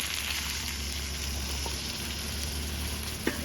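Jackfruit seeds and prawns frying in oil in a pan, giving a steady, close sizzle with one small clink near the end.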